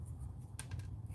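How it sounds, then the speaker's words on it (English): Knipex or Milwaukee pliers cut through wire in one sharp, close snip, with a faint second click just after, in an otherwise quiet room. "They cut the threads and they strip nicely."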